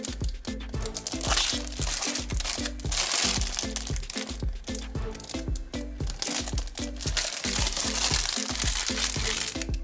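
Plastic foil wrapping torn and crumpled off a De Agostini Polonez 1500 model-kit magazine issue, a continuous close, loud crinkling with rhythmic rustles and crackles throughout.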